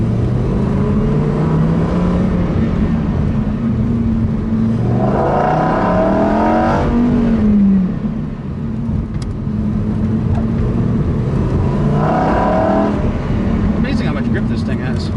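Lamborghini Huracán Performante engine on a racetrack, a loud continuous roar from inside the car that rises in pitch as it accelerates, with a few swells through gear changes.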